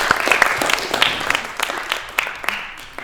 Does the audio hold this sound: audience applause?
yes